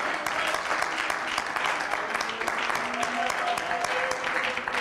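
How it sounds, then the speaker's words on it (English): A church congregation claps their hands together at the close of a prayer, a steady, moderately loud mass of clapping running throughout with faint voices mixed in. "Oh, clap your hands one more time"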